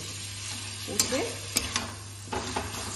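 Chicken dopiaza with yogurt, tomato and a little sugar sautéing in a pan, a low steady sizzle with several sharp scraping strokes from a spatula stirring the mixture, close by and unaccompanied by speech.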